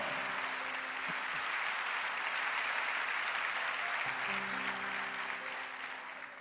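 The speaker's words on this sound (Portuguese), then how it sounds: "Aplaudam o Senhor." A church congregation claps together in sustained, dense applause that holds steady throughout and fades slightly at the end, with faint sustained tones from instruments or voices underneath.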